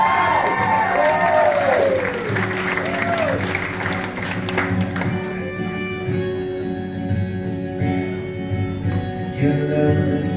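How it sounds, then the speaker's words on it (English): Wedding guests at the Squantum Association in Rhode Island applaud and cheer the newlyweds in a dense, lively roar, which fades as a slow song begins to rise beneath it. "Let's give them both one more big round of applause."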